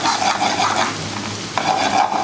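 A measured portion of prawns frying in a pan sizzles loudly and steadily, with the spatter briefly easing and then surging back up.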